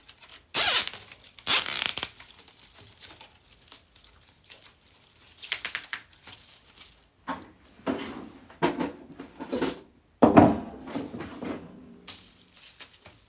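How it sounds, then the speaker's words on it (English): Zip tie being pulled tight around a tobacco basket, a few separate ratcheting zips and plastic rattles with quiet pauses between, close up and soft. "I'm going to zip tie this at the top"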